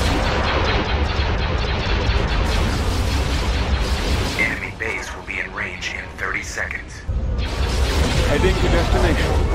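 Weapons fire in the Star Wars Empire at War video game, a loud, dense barrage of blasts and mechanical firing that dips briefly midway under game voice lines and electronic tones, then returns at full force.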